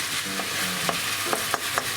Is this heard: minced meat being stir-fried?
yes